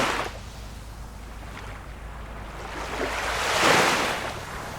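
Sea waves at Cox's Bazar beach wash in as a steady, broad roar, swelling into a louder surge near the end, with wind over the microphone and no voices.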